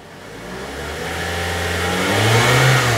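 A 1.8-litre 2017 Toyota Altis 1.8G engine revs up from idle, its loud, close drone rising steadily in pitch and volume over a few seconds, with no one speaking.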